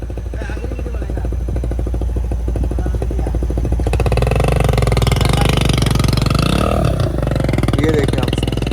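A motorbike engine runs loud and close on a small railway station platform, a steady rough chugging throughout with some rattling, and a voice talking over it partway through.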